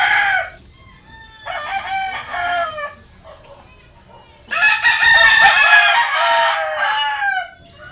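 A large rooster crows loudly and close by, two long cock-a-doodle-doo calls separated by quieter clucking.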